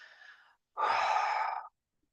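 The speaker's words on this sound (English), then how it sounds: "So you want to take in slow, deep breaths and then breathe out" A slow, deep exhale during a guided relaxation breathing exercise: a softer breath first, then a long, steady, airy outbreath of about one second, close and clear in a quiet room.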